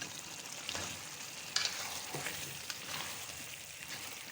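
Taro pieces are stirred into a soft eggplant curry in a pan over low heat, giving a faint, close sizzle with scraping strokes and a sharper clink midway, no voices.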